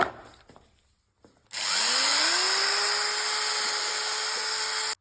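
White Element wall paint being mixed with a power drill mixer, a loud steady whine that starts abruptly after brief handling noises and runs continuously before cutting off.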